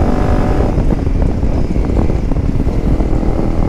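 A Honda CRF 300 Rally motorcycle accelerates, probably on a wet forest track in Slovenia, its engine a loud, dense, continuous roar close to the microphone with rumbling wind buffeting throughout.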